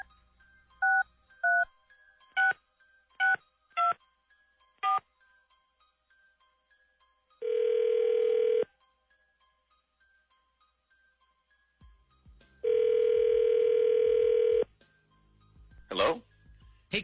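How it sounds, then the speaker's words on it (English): A phone call being placed: a quick series of DTMF keypad tones, then two long ringback tones separated by a pause, clear and close, with faint background noise and no speech. "Once the phone starts ringing"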